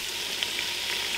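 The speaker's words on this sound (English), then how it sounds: "I'm going to cook this flour out just for about a minute" Fifty grams of flour cooking in melted butter for a sauce makes a continuous, dense, hissing sizzle close to the pan, fairly loud and even, with a couple of faint ticks and no speech.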